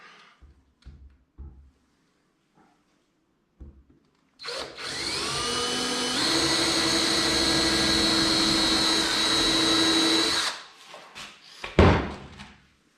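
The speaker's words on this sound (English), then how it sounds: "So we have to drill from the bottom." A few soft knocks, then an electric drill drilling from the bottom of a lighthouse model whirs loudly for about six seconds, its pitch shifting as it bites, before stopping with clunks.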